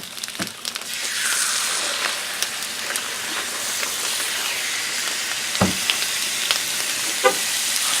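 Peppers and onions sizzle steadily on a Blackstone griddle for chicken fajitas, a dense, even hiss with a few brief scrapes and clicks, close and continuous with no talking.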